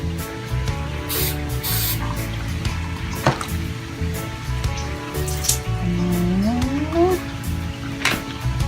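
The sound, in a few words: spray bottle spritzing before paint pouring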